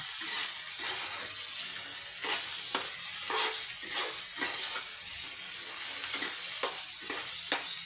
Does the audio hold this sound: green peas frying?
yes